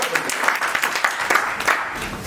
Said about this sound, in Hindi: जोरदार ताली आपके लिए, वेरी नाइस।